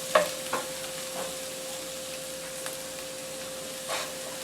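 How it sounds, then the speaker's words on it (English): Sea salt, dried thyme and basil being stirred into a pot of chicken pot pie filling: a few soft spoon scrapes and taps against the pot over a faint, steady hum and low sizzle. "And just mix that together."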